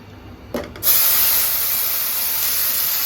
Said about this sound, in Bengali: এখন মশলা দিয়ে কষিয়ে নিব